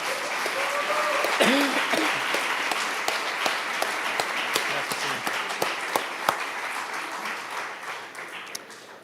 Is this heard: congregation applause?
yes